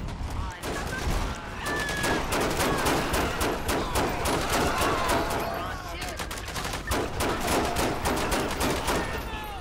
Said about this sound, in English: Shots fired. They all use an automatic rifle, man.